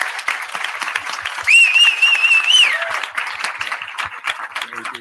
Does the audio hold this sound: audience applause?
yes